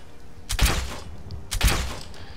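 Two shots from an automatic crossbow in a Skyrim mod, about a second apart, each a sharp snap followed by a thudding, rattling release with a short tail, with no voices.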